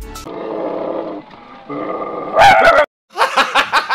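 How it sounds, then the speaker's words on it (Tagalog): Two dogs by a roadside bark and growl loudly, heard up close as several harsh, rough outbursts broken by short pauses, with a brief steady tone at the start. "Ayon at may 2 aso sa gilid, tere kamustahin natin sila."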